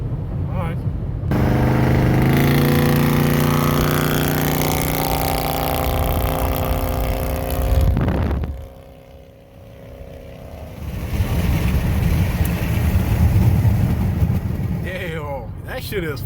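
A car's engine and loud exhaust run with a sustained droning rumble that climbs, cuts out briefly, then returns with a rougher roar, and a person talks over part of it.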